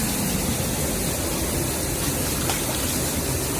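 River water rushes steadily over stones during a river crossing, a close, dense hiss of flowing water with no voices.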